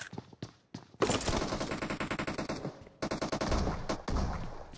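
Shotgun and automatic gunfire in BGMI/PUBG, starting with a few sharp separate shots, then a long dense volley of rapid close blasts that keeps going to the end with only brief gaps.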